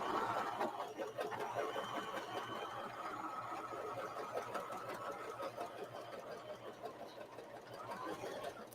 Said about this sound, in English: Okay, so I've sewed the one half of the side